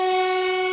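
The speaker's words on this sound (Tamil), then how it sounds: "இந்த ட்ரெயின் நிக்கல" A passing train sounds a single loud, sustained horn blast, close and steady for under a second, with nothing else heard.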